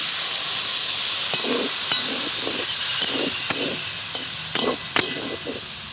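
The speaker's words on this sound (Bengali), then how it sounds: "দেখুন এবারে অল্প পরিমাণে একটু জল দেব, সামান্য।" Water splashed into a hot pan of fried ridge gourd and potato gives a steady hiss with soft bubbling bursts and a few clinks, close and moderately loud.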